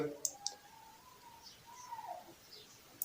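Faint, sharp clicks from tapping a phone screen option, a few isolated taps spaced apart over a quiet background.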